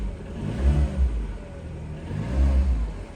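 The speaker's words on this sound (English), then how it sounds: "That motor actually sounds okay." An engine idles steadily in a car with 112 miles that has sat standing with low tyres, with two gentle swells of revving in a low, rumbling drone and no talk over it.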